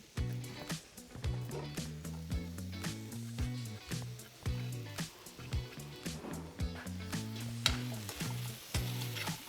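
Fennel fronds hit a hot pan with veal searing in it, giving a quiet, crackling sizzle with repeated sharp pops and a low rhythmic scraping as the pan contents are stirred.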